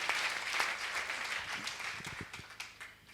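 An audience at a church gathering claps, a soft, steady patter of many hands at a distance with a few sharper individual claps, and a sudden loud burst at the very end.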